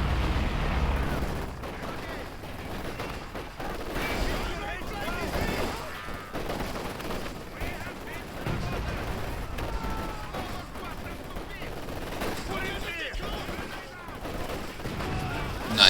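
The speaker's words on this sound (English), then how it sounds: "Comrade, those fucking howitzers are going to annihilate our troops" Howitzer artillery and gunfire in the Company of Heroes 2 battle rattle and thud continuously at a moderate distance, with dense bursts and impacts layered under speech for the whole stretch.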